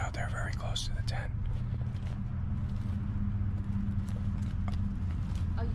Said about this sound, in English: Oh, you hear the footsteps?